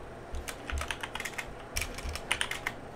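A computer keyboard that is acting up clicks close by in quick bursts of keystrokes with brief pauses between them.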